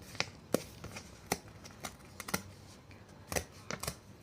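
Paper crinkling and tearing in short, faint crisp bursts as a Google AdSense PIN letter envelope is opened indoors, with no talking.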